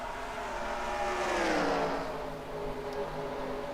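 NASCAR-style stock cars roar off at the green flag of the Cheez-It 355 at Watkins Glen, a loud engine surge building and passing close before fading into a steady background drone.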